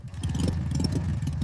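Hagrid's motorcycle in an animated Harry Potter scene rumbles with a steady, chugging engine, a loud continuous low putter of rapid firing pulses with no voices over it.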